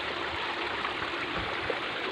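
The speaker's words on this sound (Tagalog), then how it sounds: "sa mga kanal-kanal dito, nagbaha." Floodwater rushes steadily through roadside canals after heavy flooding, a continuous, close, broadband stream-like roar with gurgling texture and no voices.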